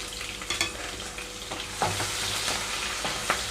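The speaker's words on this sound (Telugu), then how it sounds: "కట్ చేసి పెట్టుకున్న ఉల్లిపాయలు అలాగే పచ్చిమిరపకాయలు మొత్తం వేసుకుంటున్నాను" Chopped onions and green chillies dropped into hot tempering oil for a dhaba-style mixed vegetable curry, crackling and sizzling steadily with a few scrapes of a spoon stirring the pan.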